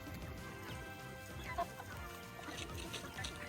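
Free-range native chickens on a farm cluck softly nearby, a few low murmuring clucks and a brief louder call over a faint outdoor background.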